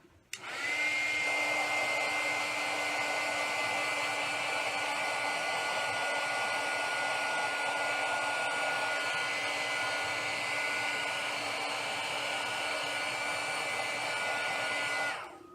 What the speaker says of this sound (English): Let me take my heat gun to this.